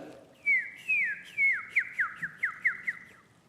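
A person whistles an imitation of a northern cardinal's song in a church setting: a series of clear, sliding whistled notes, slow drawn-out slurs first, then quicker shorter ones, fairly faint against a quiet room.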